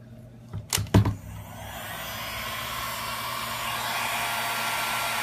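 A heat gun switches on with a few clicks and handling knocks, then blows with a steady rising whoosh and whine, close and continuous, while softening the adhesive under an iPhone 6 screen.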